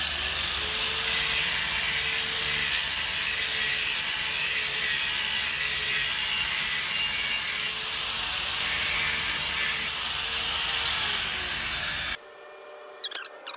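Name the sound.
grinding a railroad track anvil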